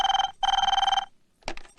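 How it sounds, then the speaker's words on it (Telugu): A telephone rings twice at moderate volume in a home, each bright bell burst buzzing evenly. A short thump follows after a brief silence. "కొంచెం ఫోన్ చూడు"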